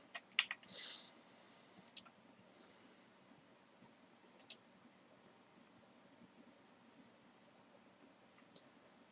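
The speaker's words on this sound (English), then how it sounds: "you're just hearing me clicking." A computer mouse gives a handful of sharp, isolated clicks spaced out across a quiet room, several in a quick cluster at the start and a few scattered single clicks after, with no talking.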